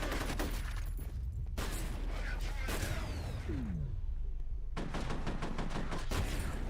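Shotgun blasts in the video game F.E.A.R. come as a few loud bursts with gaps of other game noise between them, over a steady low rumble.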